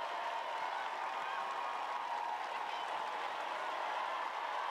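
Home crowd noise at an Arsenal women's Super League football match against Brighton, a steady broad roar and murmur of spectators holding level throughout with faint scattered clapping, while a commentator speaks over it.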